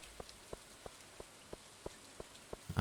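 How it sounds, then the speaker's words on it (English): Rain falling in the Stardew Valley video game, heard as a faint, steady patter of evenly spaced drip-like ticks with no talking. "Nice rainy day."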